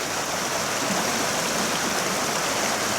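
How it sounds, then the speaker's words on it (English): River water pours steadily over a weir, dammed up by debris blocked downstream during a flood, a loud, continuous rushing roar that fills the whole clip with no talk. "You can hear the sound of the flow. This is what you get when you got a damming effect. And you got a weir overflow there."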